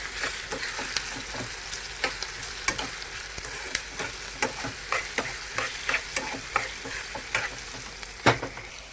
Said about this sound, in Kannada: ಉಳ್ಳಾಗಡ್ಡಿ ಫ್ರೈ ಆಗ್ಲತ್ತವ ನೋಡ್ರಿ